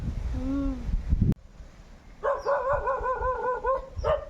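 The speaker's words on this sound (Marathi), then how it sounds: "कुत्र्याला वरडायला त्याचं काम आहे" A village dog in hill country barks in short bursts, a high whine first, then a rapid run of close, loud barks after a pause, with faint talk in the background.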